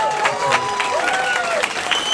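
A crowd at a Quebec gathering applauds itself, loud clapping mixed with cheers and whoops, with shouting voices rising over the hands throughout.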